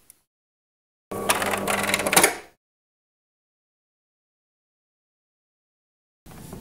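A tubular roller-shutter motor runs briefly while its limits are being set, a close, steady mechanical whir lasting under two seconds and then cutting off into silence, with a second burst just starting at the end.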